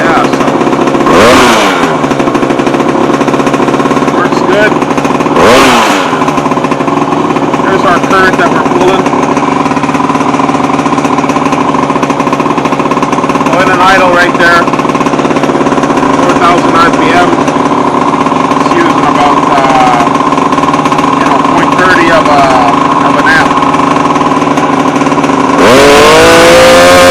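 A 49cc engine fitted with a boost bottle and PZ19 carburetor running steadily and loudly at close range, with a droning buzz and occasional sharp rev spikes and sputters.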